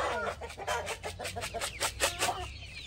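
A backyard flock of chickens clucks steadily close by, with overlapping busy calls that rise and fall over a constant outdoor hiss.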